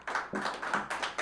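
Applause for keyboardist Theron Brown at a live jazz quintet show: about six evenly spaced, sharp claps in a steady rhythm, fairly quiet and close, with no talking.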